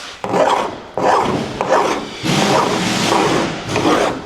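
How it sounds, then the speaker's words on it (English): Hand file rasping along the freshly cut edge of a window opening in a campervan wall, five or six loud close strokes in a steady back-and-forth rhythm. "so then we'll use the file just to get the finer edge"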